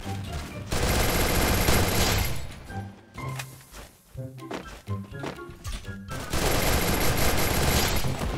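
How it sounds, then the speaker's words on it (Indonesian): Bursts of MP40 submachine-gun fire in the video game Free Fire come as loud rapid volleys, with quieter thuds and shots between them. "Ada sebuah tembakan dari arah lain."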